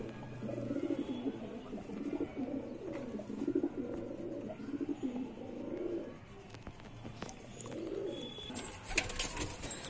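Lalban Ghagra pigeons in a loft, a run of soft, low, repeated coos from nearby birds with light rustling and faint background noise.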